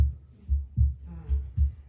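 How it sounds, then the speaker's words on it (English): A deep heartbeat plays in a live sound session, a steady lub-dub pulse of low, booming thumps repeating about every three quarters of a second, loud and alone. "suddenly you are in the world where it's only heartbeat in the room"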